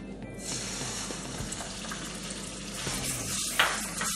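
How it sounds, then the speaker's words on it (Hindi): A paste of onion, garlic, ginger and dry coconut fries in hot oil for an egg masala curry, giving a steady close broadband sizzle with a few scraping stirs, no voices. "अभी ये पेस्ट को हमें अच्छे से भून के लेना है"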